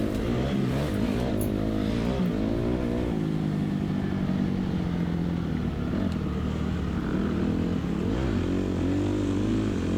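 A dirt bike rides a dirt track, its engine droning and rising and falling in pitch as it revs through corners, continuous and fairly close.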